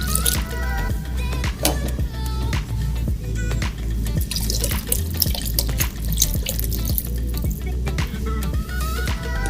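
Broth pours into a stew pot, a steady liquid splash and trickle with small drips over a low background hum, continuing for several seconds.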